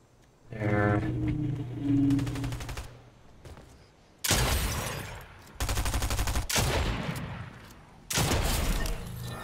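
Bursts of automatic gunfire from the Fortnite video game come in several loud, abrupt volleys separated by short pauses.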